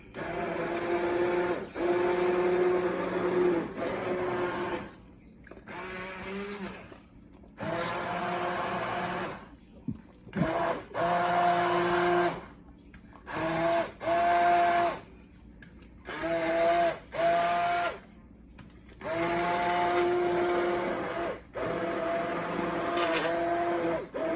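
Potato and leek soup whirring in a blender, loud bursts of motor noise switching on and off repeatedly with short pauses between pulses.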